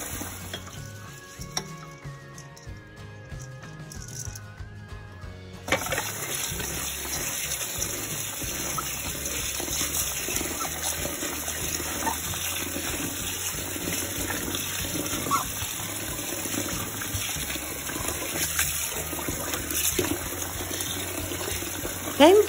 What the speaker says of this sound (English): Rinse multiple times, at least 3 or more, until your water has changed from being white to a transparent